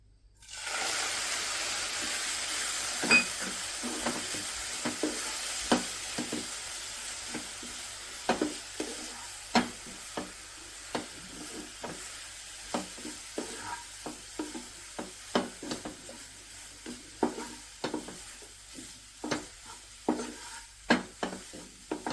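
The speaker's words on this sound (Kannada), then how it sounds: "ಹಾಲು ಹಾಕ್ಕೊಂಡು ಚೆನ್ನಾಗಿ 1-2 ನಿಮಿಷ ಆಡಿಸ್ಕೊಂಡಿದ್ದೀನಿ" Coconut laddu mixture being stirred in a pan after milk is added, a soft continuous sizzle with repeated scraping strokes of the spoon at an irregular pace, close and alone.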